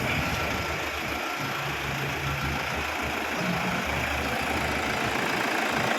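A Toyota Fortuner TRD 4WD diesel engine, a 3.0-litre D-4D, idles with a low, even rumble throughout, close by and continuous, with no talking.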